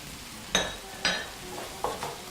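Tinned tomatoes are stirred into a bolognese sauce in a pan, with a few distinct scraping strokes and wet squelches over a low sizzle, moderately close.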